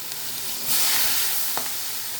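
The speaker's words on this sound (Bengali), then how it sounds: "এবার একটু কোচানো পেঁয়াজ দিয়ে দিচ্ছি বন্ধুরা।" Chopped onion dropped into a hot pan and frying, a steady close sizzle that swells briefly, with a short utensil tap near the end.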